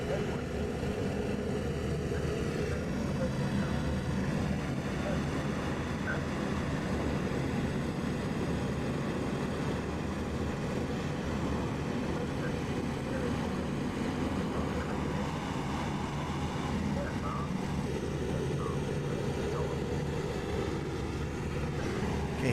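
Bomber aircraft engines in a 1941 WWII flight sim drone in a steady, dense low rumble that holds at a constant loud level throughout, sounding close and enveloping, with no talk.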